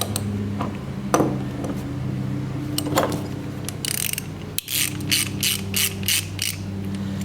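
A ratchet wrench clicking as it tightens a 9/16 inch nut on the idler pulley of a Cub Cadet mower deck, in bursts of close, loud, rapid pawl clicks with short pauses between strokes.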